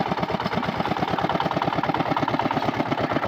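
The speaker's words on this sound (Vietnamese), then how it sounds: "nhà nào cũng có một cái máy cày như thế này nha mọi người" A small rural two-wheel walking tractor engine idles steadily up close, its loud, rapid, even chugging pulses running throughout without any talk.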